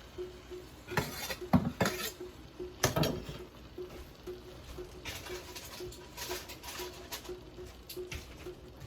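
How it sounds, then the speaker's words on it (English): Coconut cream stirred into a pot of vegetable curry, giving soft intermittent spoon scrapes and light metallic clinks against the pot, fairly quiet and close. "I'm gonna just go ahead and mix that coconut cream in there"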